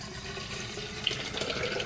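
Water running from a tap into a drinking bottle at home, a steady close splashing stream that continues evenly for the whole moment with no talking.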